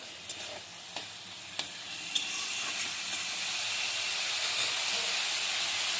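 Potatoes sizzle in a pan, seasoned with salt, for a Bengali spinach and poppy seed dish. The frying hiss rises steadily, with a few sharp utensil taps early on and no talking.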